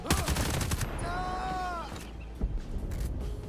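Rapid, loud bursts of automatic gunfire and blasts in the video game Ghost Recon Breakpoint crackle through a dense combat soundscape, with a brief whistling tone in the middle.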